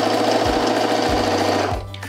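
A sewing machine runs continuously at a steady pace, its rapid mechanical stitching loud and close, slowing and stopping near the end.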